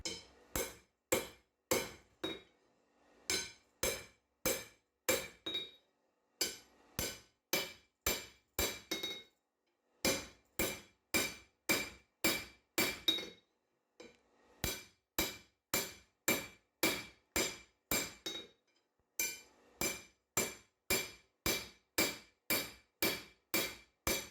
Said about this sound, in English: I'm using the shoulder of the anvil to start forging in a finger well right beneath the bolster.